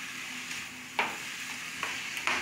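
Corn kernels are stirred into chilacayota squash in a frying pan: soft sizzling under three or four distinct scraping spoon strokes.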